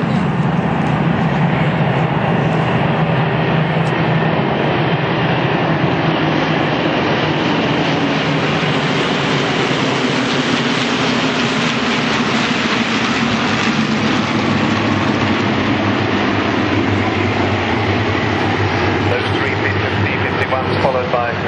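A formation of WWII propeller fighters, including P-47, Corsair and Skyraider, roars past at the Duxford airshow, a loud, sustained engine drone that swells and shifts pitch over twenty seconds with a voice talking over it.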